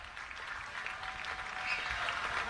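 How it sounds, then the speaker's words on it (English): Baseball fans in a stadium crowd clap steadily in a broad, distant wash of applause that swells slightly toward the end, with no nearby voices. "Fans are applauding."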